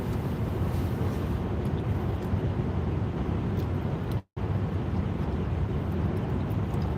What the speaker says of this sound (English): Very quiet driving. You can hear the wind, but that's about it.